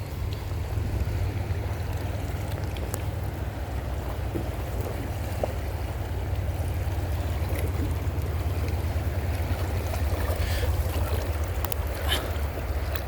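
Yellowstone River rushes over rapids in a steady, dense roar of churning water, close and continuous with no talk.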